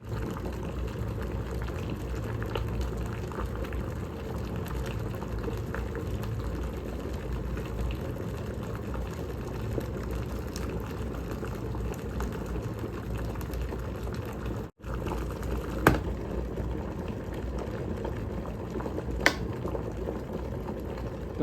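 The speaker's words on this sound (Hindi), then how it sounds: "अब हम वेट करते हैं ऑटो कट ऑफ होने का, कितना टाइम लेता है ये हमारा पानी गर्म होने में।" An electric kettle heats water with a steady, continuous rushing roar that builds toward a boil, with a few faint clicks and ticks near the end.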